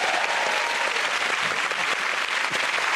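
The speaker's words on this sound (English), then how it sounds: "that round of applause to the party" Steady, full applause fills a comedy panel show studio, a thick, even roar of many clapping hands that stays loud throughout without letting up.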